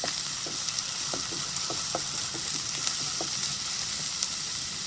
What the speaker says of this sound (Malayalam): ആദ്യം ഇഞ്ചിയും വെളുത്തുള്ളിയും പച്ചമുളകും ചേർത്ത് നന്നായി വഴറ്റിയെടുക്കണം.